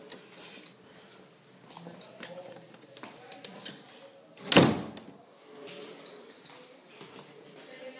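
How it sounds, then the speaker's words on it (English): A door is closed with a single sharp thud, followed by faint rattles and shuffling of a lock being secured, while people talk quietly around it. "Lock the door."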